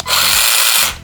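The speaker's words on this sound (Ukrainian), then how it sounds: "Ще один плюс до безпеки це швидка зупинка ланцюга." A Dnipro-M CS-12 cordless chainsaw whines loudly and steadily for about a second at close range, then its chain quick-stop cuts the motor off abruptly, leaving a short fading spin-down.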